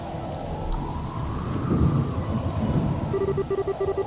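Steady heavy rain pours throughout with low rumbling thunder, and a repeating electronic beeping tone comes in near the end, in the video game Trails in the Sky the 3rd.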